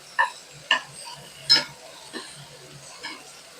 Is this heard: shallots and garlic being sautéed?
yes